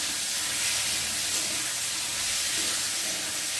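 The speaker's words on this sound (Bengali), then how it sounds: "দিয়ে আলুগুলো একটু ভালো করে ভেজে নেব" Potatoes fry in hot oil with tempered whole spices for a dal and potato dish, a steady close hiss and sizzle running without a break.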